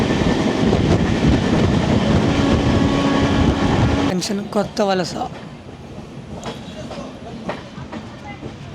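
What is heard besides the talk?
Araku mountain railway train running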